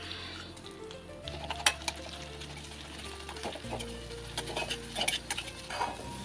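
Bread bajji ingredients frying in a pan, a soft steady sizzle with occasional clinks and scrapes of a utensil against the pan, quiet and close, without talk.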